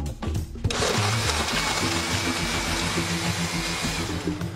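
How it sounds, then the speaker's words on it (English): A blender runs steadily with a loud whirring motor hum, starting abruptly and holding a constant drone. "I put some in the blender"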